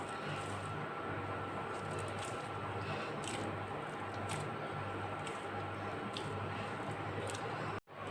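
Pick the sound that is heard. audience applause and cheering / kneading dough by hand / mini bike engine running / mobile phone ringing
kneading dough by hand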